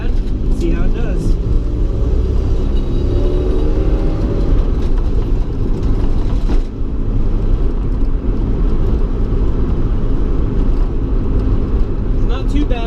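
A 1990 Honda Civic DX with aftermarket coilovers drives over rough, broken pavement, giving a steady loud road and engine rumble with suspension thumps and rattles. A person talks throughout.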